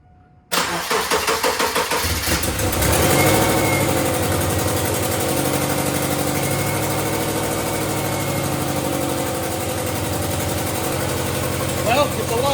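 Subaru Impreza GF8 with an EJ22 SOHC engine cranks and fires, then settles into a loud, steady idle with a rough, blatty exhaust leak, running continuously close to the microphone.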